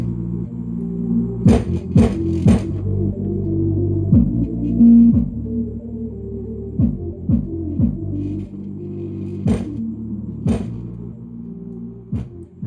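Deep bass from a 5.5-inch subwoofer on a Creative 2.1 home theater system, a steady low rumbling hum with repeated punchy thumps throughout, fairly loud and close with no voices.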